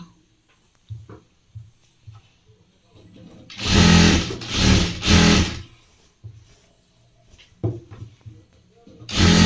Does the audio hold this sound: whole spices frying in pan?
no